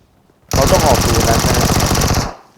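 A loud, close burst of rapid automatic gunfire in PUBG Mobile rattles on for nearly two seconds as one continuous stream of shots, then cuts off.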